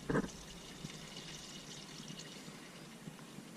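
Engine oil, about 15 quarts, draining from a 2004 Ford F350 6.0 diesel into a pan, a faint, steady trickling pour after a brief knock at the start.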